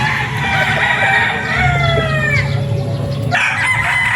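A gray gamefowl rooster of an LDT line crows on a farm in Norzagaraya, Bulacan, one loud, close, drawn-out crow with other fowl clucking and crowing around it.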